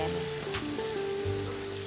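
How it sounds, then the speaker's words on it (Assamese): Marinated broiler chicken meat frying in a pan, a continuous soft sizzle and hiss with faint stirring, heard alone without talk. "মাংসখিনি অলপ দেৰি ভাজি লম পিয়াজ আৰু আদা নহৰু কেঁচা গোন্ধটো যোৱালৈকে"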